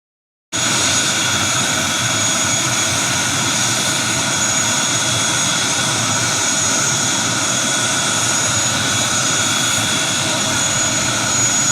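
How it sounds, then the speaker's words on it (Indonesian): An ATR 72-600 Citylink turboprop lands at Atung Bungsu Airport in Pagar Alam. Its engines give a loud, steady, continuous roar with a droning propeller tone that starts suddenly and holds unbroken throughout. "Pendaratan perdana pesawat ATR 72600 Citylink di Bandara Atung Bungsu, Pagar Alam menjadi momen bersejarah bagi masyarakat setempat."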